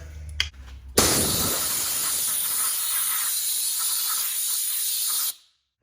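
Compressed air blasts onto the front brake parts of a 2017–2022 Honda CR-V, a loud, steady hiss lasting about four seconds after a few brief knocks, then cutting off abruptly.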